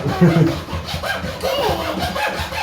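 A hand saw rasps back and forth through a wooden gate in steady strokes, close and loud, with a voice briefly audible underneath.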